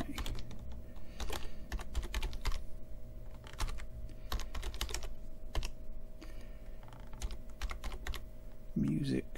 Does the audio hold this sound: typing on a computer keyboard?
yes